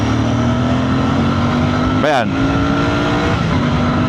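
A Royal Enfield Bear 650 motorcycle revs loudly pulling away from a traffic light, its engine note climbing sharply in a rising sweep midway, with someone speaking over the steady exhaust drone.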